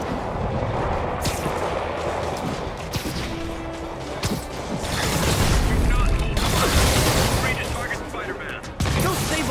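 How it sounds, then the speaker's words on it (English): Gunfire and mechanical impacts rattle against an armored personnel carrier in a city battle from Marvel's Spider-Man, sharp bursts and booms over rumbling machinery, with radio voices speaking under the noise. "Demons are firing on our APC."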